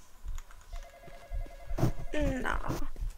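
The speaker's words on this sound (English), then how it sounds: "Phone is ringing." A phone rings inside a Roblox game, a repeating electronic tone pattern over game background noise and faint voices.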